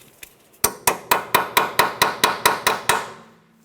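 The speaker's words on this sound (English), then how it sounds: "You want to make sure you try to drive that socket in there as far as possible." A hammer drives a 14mm socket onto a front sway bar link nut on a 2012-2015 Honda Civic: about ten sharp, loud metallic blows in a steady, even rhythm, struck close by with no talking.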